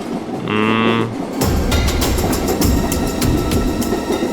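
Inside a moving passenger train, a steady rumble and rattle of the carriage fills the space, with rhythmic clicking from the rails after a brief tonal beep near the start.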